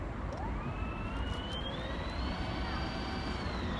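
A Koowheel Onyx electric skateboard motor runs in beginner mode, a steady whine rising in pitch and then holding level over a constant rumble of wheels and wind, loud and close throughout.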